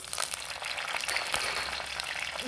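Curry leaves and green chilies crackle and sizzle in hot oil for a fish curry, a steady bright frying hiss with scattered pops, close and alone with no talk.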